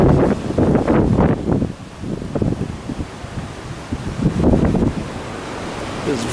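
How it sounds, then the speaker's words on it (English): Strong wind gusting across Pfeiffer Beach, roaring and buffeting the microphone in loud irregular surges with brief lulls, with surf noise blended underneath. "The wind was blowing so hard, it's blowing the sand into our face, and it actually stings."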